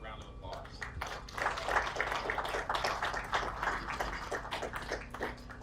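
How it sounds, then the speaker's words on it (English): Quick round of applause at a housing groundbreaking ceremony, scattered clapping from a modest crowd building over a few seconds, fairly faint and distant. "So just a quick round of applause."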